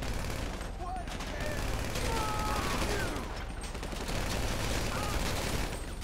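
Gunfire in the video game GTA V Online: bursts of rapid automatic shots crackle repeatedly across the few seconds, fairly distant and mixed with game ambience, with no voices over it.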